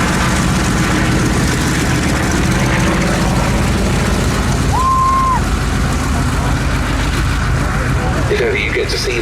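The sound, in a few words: Grumman Bearcat piston-engined fighter flying in air display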